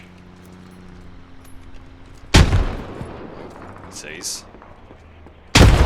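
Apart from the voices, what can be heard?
grenade explosion and gunfire in video game Squad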